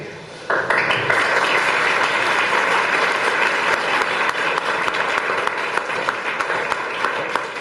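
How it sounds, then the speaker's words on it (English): Audience applause for the speaker at the close of a self-development seminar for SSB training, starting abruptly after a brief pause and holding as a loud, dense, steady wash of many hands until the end. "Thank you, sir. For that applause."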